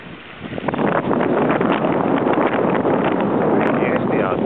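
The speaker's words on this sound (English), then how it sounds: "It's nasty out today. It's windy," Strong, gusty wind blows over a frozen lake on a rainy, misty day, a loud continuous rushing roar buffeting the microphone without a break.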